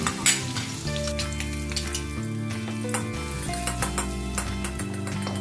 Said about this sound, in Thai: ไฟอ่อนๆนะครับ เจียวกระเทียม